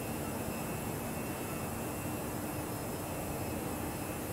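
Jet engines of a ToLiss A319 airliner in the X-Plane 11 flight simulator give a steady, broad roaring hum with a faint high whine, moderately quiet and unchanging throughout, with no voices.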